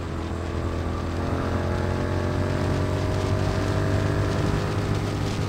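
A Royal Enfield GT Continental 650 running at high speed on the road, its engine a loud, continuous drone with steady rising harmonics blended with heavy wind rush, no voices over it.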